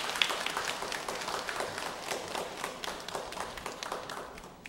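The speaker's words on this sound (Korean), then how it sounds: "우리 박수로 우리 환영하도록 하겠습니다" A church congregation applauds to welcome a newcomer during a service, with steady, dense clapping from many hands that carries on throughout and tapers slightly at the end.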